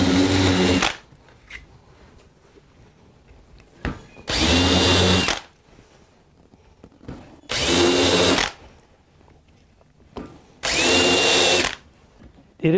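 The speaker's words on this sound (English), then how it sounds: "I'm going to have a special taper bit to make a countersink for the screw heads." A power drill fitted with a taper countersink bit bores screw holes in wood, giving four loud, steady whirring bursts of about a second each, separated by quieter handling noise.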